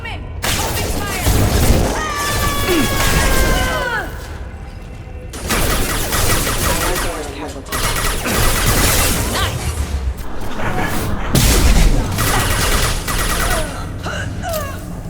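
Bursts of rapid video game gunfire from Mass Effect 2 erupt in a firefight, loud and close, with crackling shots and impacts alongside in-game character voices.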